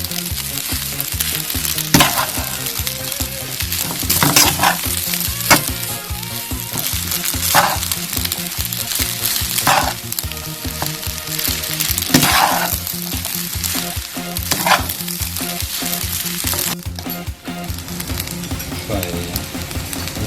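Rice being stir-fried with pork in a pan for fried rice, a loud continuous sizzle with repeated sharp scrapes and clanks of stirring throughout, with a voice talking underneath at times.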